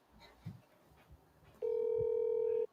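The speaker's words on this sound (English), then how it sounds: "I'm gonna start it with the ringing to make sure we can hear it." A telephone tone starts abruptly after a quiet stretch with faint background noise and sounds as one steady, loud electronic tone lasting about a second.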